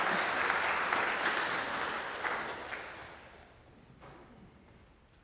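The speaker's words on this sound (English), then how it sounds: "Let's give Heather a big round of applause to say thank you." A worship congregation applauds in thanks for Heather, steady clapping at first that gradually thins and fades toward the end.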